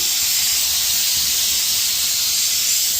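Steady hissing steam jet from a pressure cooker whistle, loud and continuous with no break, while cooking cluster bean palya in a home kitchen, no voices.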